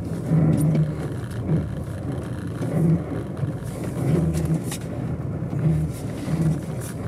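A Toyota RAV4 plug-in hybrid with all-wheel drive pushes hard around a test track, its engine giving a steady, close droning rumble that rises and falls over about seven seconds with no talk.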